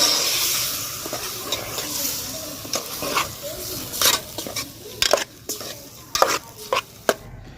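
A spoon stirs red lentils in a pot over a low sizzle, with scraping and clinking that grow sharper toward the end, where a metal clatter may be the lid going on.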